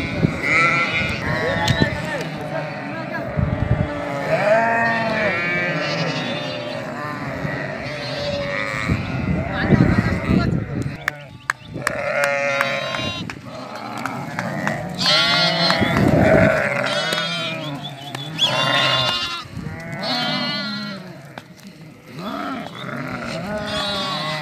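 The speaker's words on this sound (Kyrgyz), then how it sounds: "Экинчи сакмандын козулары." Young Hissar lambs bleat repeatedly, with many overlapping cries close by. Someone talks over the flock in a farmyard.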